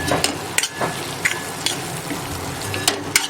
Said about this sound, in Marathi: आता हे सर्व मसाले आपण व्यवस्थित असे परतून घेऊया